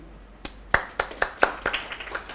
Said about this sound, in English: Can we clap for you?